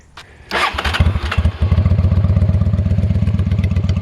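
A 1995 Honda VT600 Bobber motorcycle with baffles removed from the exhaust cranks and fires up, then settles into a loud, close, throbbing idle with a rapid, even pulsing beat.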